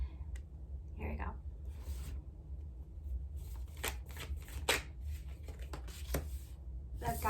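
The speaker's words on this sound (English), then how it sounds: "just gonna pull up some more cards here, guys, and then I will wrap this up" Tarot cards shuffled and drawn by hand, soft papery riffles and flicks in short bursts, close and fairly quiet over a low background hum.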